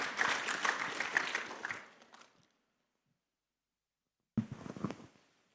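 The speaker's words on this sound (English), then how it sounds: "Let's give another warm up applause for our guest speaker today." A conference audience claps for a guest speaker in a moderate round of applause that fades to silence after about two seconds, then a brief second burst of clapping follows.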